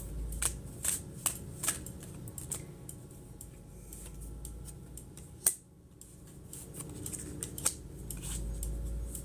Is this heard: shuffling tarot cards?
yes